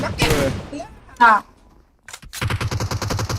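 Kar98 rifle fire in a PUBG Mobile match lands as loud, sharp cracks: a burst at the start, a single hit near the middle, then a rapid string of reports near the end, with voices talking between the shots.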